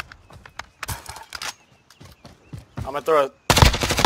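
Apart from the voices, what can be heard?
gunfire in the video game Warzone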